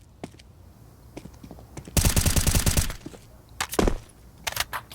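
Rapid bursts of automatic gunfire rattle out on the Mirage map in a Counter-Strike match, with a dense volley in the middle and a few scattered sharp shots before and after it.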